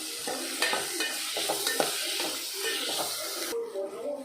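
Chopped onions and rock salt sizzle in a hot pan while being stirred, with scraping and spatula knocks over a constant frying hiss, and a voice talking under it.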